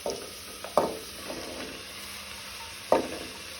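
Onion, jackfruit seeds and peas frying in a pan while being stirred, a low steady sizzle broken by several sharp scraping clacks of the spoon against the pan.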